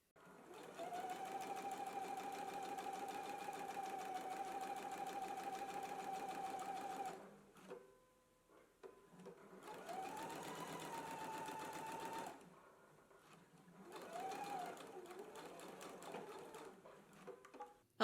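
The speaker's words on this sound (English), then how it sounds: "we're just going to do a row of understitching right here" A home sewing machine runs understitching along a pocket seam, three steady whirring bursts with brief pauses between them, close and alone.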